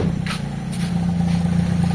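The engine of a Toyota Corolla after heavy maintenance idles steadily nearby, a smooth low hum with slight rhythmic pulsing and no talking over it.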